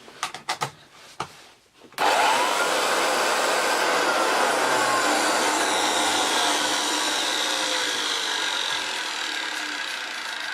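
A Hoover Junior 1334A vacuum cleaner: a few knocks and clunks, then the motor starts abruptly and runs as a loud, steady, broadband whooshing roar that holds to the end.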